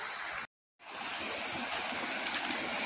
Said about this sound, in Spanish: Se escucha el río, allá pasa el río abajo.